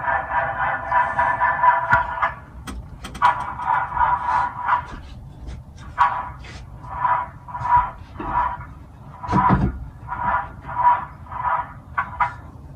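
A custom 11-sound car horn on a van plays a rhythmic series of short, tonal honks in a melodic pattern, fairly close and alone.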